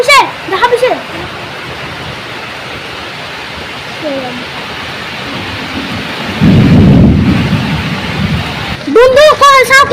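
Heavy thunderstorm rain roars steadily with a strong wind, and a deep thunder rumble swells midway; a voice talks briefly at the start and again near the end.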